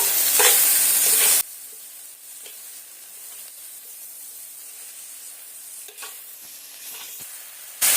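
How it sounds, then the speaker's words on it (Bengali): Pumpkin greens and stalks fry in a pan with a loud sizzle at the start, which drops to a quieter steady hiss broken by a few stirring scrapes before flaring up again at the end. "কুমড়ো শাক ডাঁটাগুলো দিয়ে দিলাম দিয়ে এইভাবে আবারও সুন্দর করে নেড়ে ফেলে নেব"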